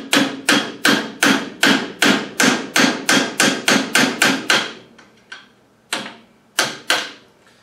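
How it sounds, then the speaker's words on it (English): A trailer wheel locking ring is tapped loose with a screwdriver in a workshop, giving about fourteen rapid, evenly spaced metallic knocks followed by a few slower, fainter single taps, close and clear. "if you just take it and loosen it with your screwdriver"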